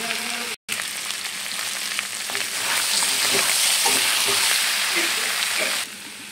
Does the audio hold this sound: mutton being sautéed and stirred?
yes